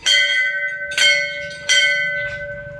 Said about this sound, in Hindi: घंटी बजा के